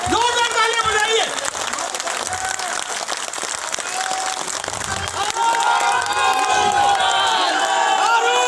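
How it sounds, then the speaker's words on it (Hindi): A large crowd at a Congress party executive meeting breaks into loud, sustained applause, with cheering and shouting voices rising over the dense clapping throughout. "जोरदार तालियां बजाइए।"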